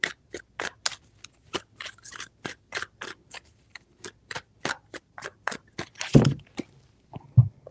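Crisp, rapid tarot card snaps repeat in quick bursts, a riffle-like flutter near and clear, ending with a louder thump and a soft knock.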